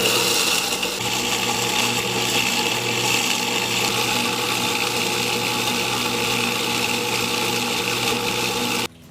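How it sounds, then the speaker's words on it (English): A blender grinds dried eggshells into powder, a loud continuous whirring roar that holds steady for about nine seconds before cutting off abruptly. "we're just going to basically put them on the blender and turn it into powder"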